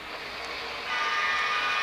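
Model train on a layout emerging from a tunnel, a faint steady whirring hiss that grows slightly louder partway through, with no voices.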